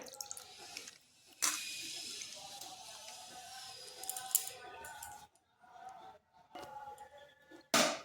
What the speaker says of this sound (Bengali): আলুটাকে ভালো করে ধুয়ে নিতে হবে।